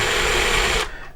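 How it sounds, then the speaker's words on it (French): A drill countersinks screw holes in a piece of wood, giving a loud, close, continuous whirring buzz that winds down quickly at the end. "Au dos, j'en profite et je vais détourer légèrement les trous pour que les vis puissent"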